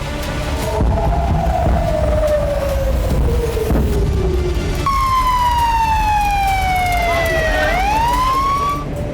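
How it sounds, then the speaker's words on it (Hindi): Air raid sirens sounding in Israel, wailing tones that slide slowly downward and then rise again, a second siren layered over the first, loud and continuous. "इजराइल में लगातार सायरन बज रहा है।"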